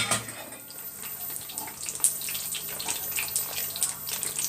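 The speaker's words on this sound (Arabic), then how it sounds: "معانا ميه بتغلي على النار،" A pot of water boils on a stove with a continuous, close bubbling and hissing wash, with small pops and splashes over the top.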